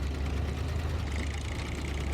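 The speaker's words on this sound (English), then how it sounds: "Try to decide if it's got quite a grunty engine. Sounds quite old school," A truck engine idling in the off-road driving game Snowrunner, a steady, grunty low rumble held close and constant with no break and no voices.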